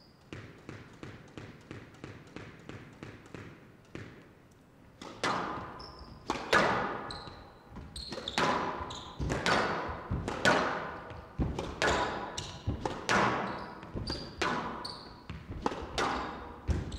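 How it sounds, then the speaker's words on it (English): Squash ball strikes and wall thuds during a women's professional rally at the Windy City Open, a brisk steady series of sharp hollow knocks, quicker at first then louder and echoing in the court, with faint crowd murmur. "This is a ridiculous volley drop."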